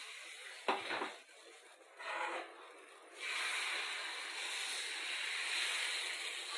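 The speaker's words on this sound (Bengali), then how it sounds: "আমি এবার ব্যাটার দেবো আজ কমিয়ে দিয়েছি আমি ব্যাটার দিচ্ছি" Semolina dosa batter is poured onto a hot pan, giving a soft sizzle and hiss that swells after a few scraping touches and then holds steady.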